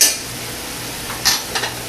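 Spiced meat for potato kubbeh being stirred in a pan gives a steady sizzling hiss, with a few brief scraping knocks of the spoon against the pan.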